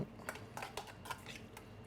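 Fish tartare with seaweed and kiwi stirred in a bowl with a utensil, giving soft, close clinks and scrapes at an irregular rhythm over a quiet background.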